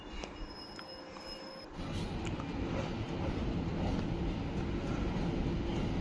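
A MEMU train running from Bangalore to Bangarapete rumbles steadily, starting quieter and then rising to a loud continuous roar of wheels and carriage noise, with a faint thin tone early on.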